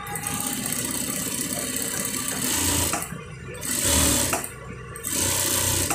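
A sewing machine stitches the side of a shirt collar band, running in a steady close whir with a brief slowdown partway through.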